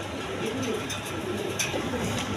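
Pigeons, including a pair of Bantinet birds, coo softly in a farm loft, low murmuring calls under steady background noise.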